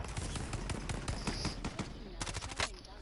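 DMR rifle fire in a PS4 shooter game: rapid, loud cracks in quick bursts, tightly spaced across the whole stretch, close and punchy.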